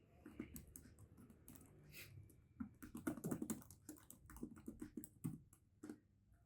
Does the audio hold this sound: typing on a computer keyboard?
yes